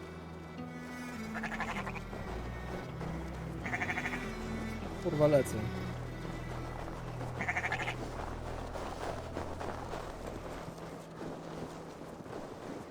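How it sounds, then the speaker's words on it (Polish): Sheep bleat several times over a droning soundscape in Assassin's Creed Valhalla, while someone talks briefly in between. "Ale masz tylko dwie owiecki"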